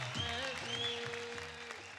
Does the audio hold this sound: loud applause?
yes